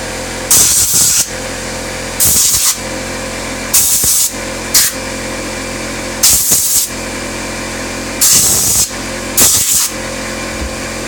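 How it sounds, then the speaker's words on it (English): Compressed air hose blowing dust out of a Ryobi One+ 18V reciprocating saw, six or seven sharp loud hissing bursts about a second long, spaced every couple of seconds over a steady background hum. "So blow the dust out, get it ready for the next use."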